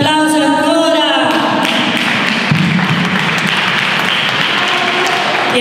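Clapping from a crowd swells and continues steadily, loud and close, with a voice trailing off at the start.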